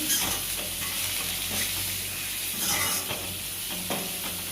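Drumstick sambar is stirred in a pot, producing a continuous bubbling sizzle with soft scraping of the spoon, close and steady with no talking.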